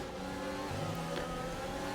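Race car engine in F1 2020 on a French circuit, holding a steady high drone with a brief pitch shift as the car brakes hard into a chicane, no voices present.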